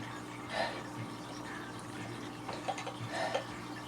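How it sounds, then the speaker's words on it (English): Champagne poured into a glass at a party celebration, a faint fizzing, splashing pour with a couple of soft liquid bursts in a quiet room. "let me pour a little glass of champagne."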